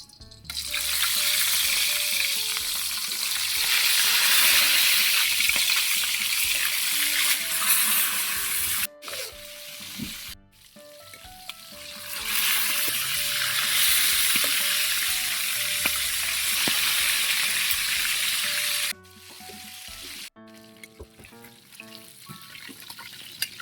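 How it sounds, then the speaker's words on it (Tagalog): Tilapia frying in hot oil, a loud, steady sizzle that carries on for long stretches, broken by brief pauses and clinks, with no talking over it. "Pirituin natin tilapia."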